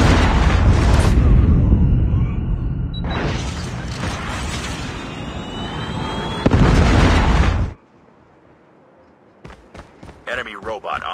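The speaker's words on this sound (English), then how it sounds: "Hostile Predator missile inbound." Predator missile explosions in Call of Duty Mobile: loud, close broadband blasts at the start and a long rumbling burst mid-clip, then a sudden drop to quiet with scattered faint clicks and ticks.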